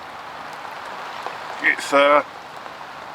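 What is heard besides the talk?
rain falling on a fishing bivvy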